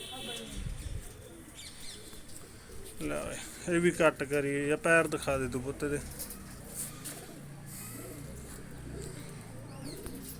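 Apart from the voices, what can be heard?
pigeons cooing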